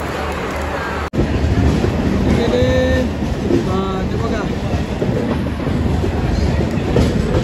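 A Badlapur local train rumbles steadily past at close range at a station, wheels clattering loudly on the rails, with brief tonal squeals and faint voices mixed underneath.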